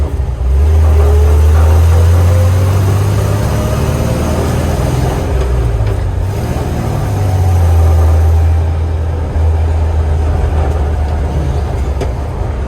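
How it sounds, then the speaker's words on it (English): A 1980 Toyota Land Cruiser engine drives in four-wheel drive high gear, a loud, steady low rumble heard from inside, rising and easing in waves with the throttle and no talking. "Now we're in 4-wheel drive high gear"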